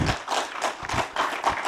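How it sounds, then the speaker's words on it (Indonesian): A crowd at a political speech by Prabowo claps in a steady pattern of pulsing bursts, loud and fairly close, with no speech over it. "yang paling keras tepuk tangan kawan-kawan PDIP"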